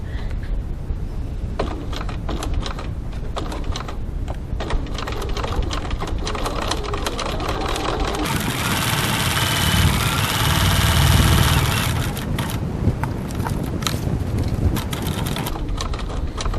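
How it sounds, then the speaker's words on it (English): A sewing machine back-stitching a card slot organiser: a steady, close mechanical whir and rapid needle chatter that runs without pause, rising slightly in intensity midway, with no talking. "I'm just going to back stitch, but you could pull the threads back to the other side if you wanted to."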